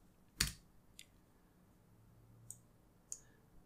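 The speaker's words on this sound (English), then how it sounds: "I can open it by simply typing cmd." A handful of isolated key clicks typing on a computer keyboard, sharp and sparse with pauses between, in a quiet room.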